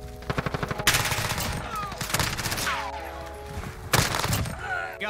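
An MP7 submachine gun fires in Call of Duty: Modern Warfare: a rapid rattling burst, then sharp, loud volleys separated by brief pauses, with ringing in-game effects between them.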